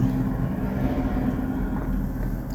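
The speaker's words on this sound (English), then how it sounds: "And sorry if you can hear all the traffic. I live on a main road." Steady low rumble of traffic on a busy main road, with heavy trucks and tractor trailers rolling past, a continuous droning wash heard from indoors with no voices.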